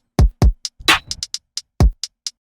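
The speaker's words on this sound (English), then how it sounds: "let's get some hi-hats going. Kick." Sparse trap-style beat programmed for an edgy e-boy rap track: booming kick drum hits and crisp hi-hat ticks in a loose pattern, with one snare-like burst near the middle, loud and close with no voices.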